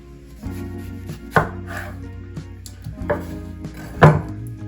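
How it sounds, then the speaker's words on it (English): A knife cuts thick tomato slices for a plant-based tomato sandwich on a cutting board, with three distinct sharp knocks of the blade hitting the board spaced over a few seconds, close and clear, no talking. "So I always cut them a little bit thick for the tomato sandos."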